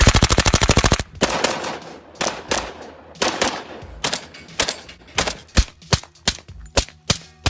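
Competitive shooting with handguns and shotguns: a rapid burst of sharp shots, then a steady series of loud, separate gunshots at close range, alone with no voices.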